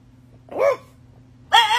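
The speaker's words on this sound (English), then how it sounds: "People are always like, why does your dog bark like that?" Two short, strained, squealing barks from a dog, separated by a brief pause, close and fairly loud, with a low steady hum underneath.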